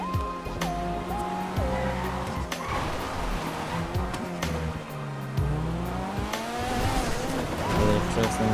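Race cars speeding uphill on Mount Chiliad in the video game GTA 5, with engines droning and shifting pitch and tires squealing through the corners, loud and continuous throughout.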